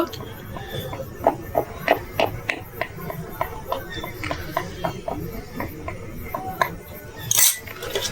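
A metal spoon pokes holes in rolled-out dough for a Bengali bati gorom recipe, making a string of light close taps and clinks in an uneven rhythm over faint background noise.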